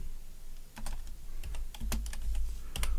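Typing on a computer keyboard to enter a search for a PS4 game, with bursts of quick key clicks over a steady low background hum, close and fairly loud.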